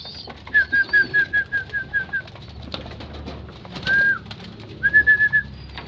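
Pigeons coo nearby in a loft, one bird giving a rhythmic run of soft repeated coos, then a short call and another quick burst of coos, over a quiet background.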